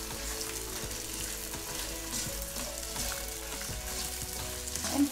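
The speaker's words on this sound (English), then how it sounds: "I'm going to start stir frying the onions" Onions sizzle and crackle steadily as they are stir-fried in a pan over medium-high flame, with occasional scraping as they're stirred, no voices.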